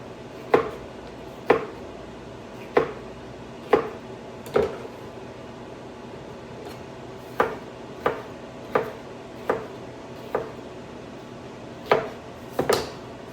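Knife chopping bell peppers on a cutting board for meal-prep dinners, a steady series of crisp close knocks about once a second, slightly irregular, with a quick double chop near the end and no talking.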